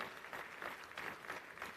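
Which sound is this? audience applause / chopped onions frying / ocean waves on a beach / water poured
audience applause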